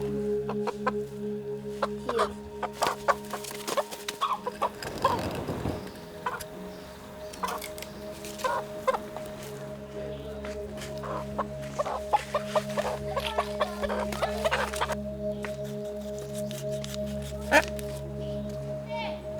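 A chicken clucks in short, scattered bursts over a steady low hum, with the calls fairly near and moderately loud and a louder rustling burst midway.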